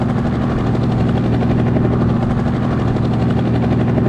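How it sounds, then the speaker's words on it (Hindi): A drone flies overhead in the Grand Criminal Online video game with a loud, steady, rotor-like droning hum. It holds at even volume throughout, with no voices. "ये ऊपर का ड्रोन उड़ रहा है"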